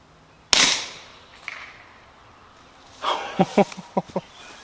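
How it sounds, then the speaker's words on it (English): Pistol shots from a 10mm RIA 2011 fired at a steel target in an open field: one sharp report, then a quick string of several shots with faint ringing impacts, carrying across the open space. "Oh man, I hate to even shoot steel with this, it's so quiet."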